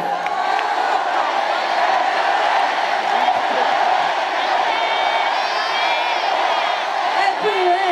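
A large crowd at a Yonsei University festival concert screams and cheers continuously, high-pitched shrieks and whoops blending into a loud, sustained roar.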